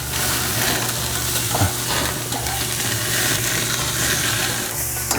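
Costco ribeye steaks sizzle on a gas grill just after being flipped, a steady dense crackle with occasional pops, continuous and fairly loud throughout with no talking.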